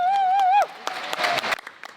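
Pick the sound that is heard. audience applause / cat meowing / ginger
audience applause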